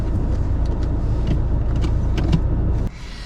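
A car engine idles steadily at a driving-test stop after parking, then cuts off near the end, leaving a quieter hum.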